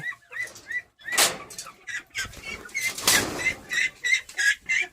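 Guinea fowl call out repeatedly at close range, a series of loud squawking cries broken by short pauses, with scattered rustling between.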